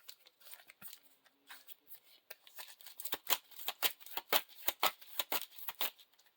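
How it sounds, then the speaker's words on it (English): Playing cards for a Lord of the Rings card game being shuffled by hand, a run of quick, crisp riffling snaps that grow louder and more rhythmic toward the end, close up with no talking. "I'm also going to be shuffling in Gildor"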